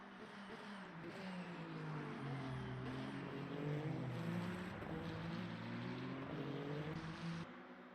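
A yellow AF Corse race car, number 83, in Le Mans Ultimate roars steadily down the back straight, its engine a continuous loud drone with slowly shifting pitch throughout.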